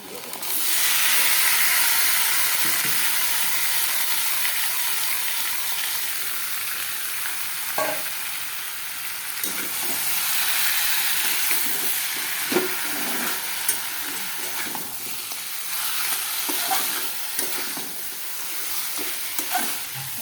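Mutton frying in a pot with well-browned fried onions, a steady loud sizzle and hiss with scraping stir clicks throughout, close up, no talking.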